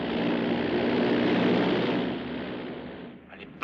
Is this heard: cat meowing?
no